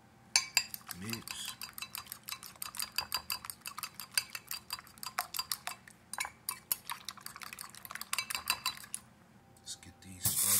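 Eggs being mixed in a bowl for scrambled eggs, a rapid run of clinking, scraping utensil strokes against the dish, close and fairly loud, continuing steadily throughout.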